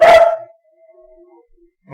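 A pet dog at home gives one sharp, loud bark up close, then a faint whining trail fades into near silence.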